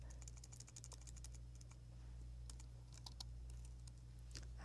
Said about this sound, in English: Might want to edit all my typing out.